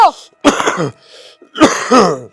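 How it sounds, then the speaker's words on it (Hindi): Two harsh, rough coughs from an elderly person close to the microphone, separated by a short pause, with a faint breath between them. "देख ले होगी नहीं खांसी शुरू।"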